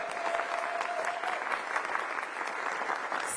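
A crowd at a DC Startup Week kickoff event claps for Rachel Koretsky, steady mid-distance applause with scattered sharper individual claps and a faint tone running under the first half.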